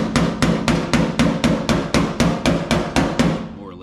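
About a dozen evenly spaced hammer blows ring on a 1964 Chevrolet Impala fender being reshaped, each a sharp metallic clang with a short ring, close and steady, with the last strike trailing off into quiet.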